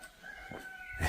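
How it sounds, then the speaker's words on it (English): A cockerel crows in a historic town on the Camino route from Sarria, a single drawn-out call at moderate distance over quiet outdoor background. "Cockerel's talking to me."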